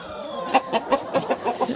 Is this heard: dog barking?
no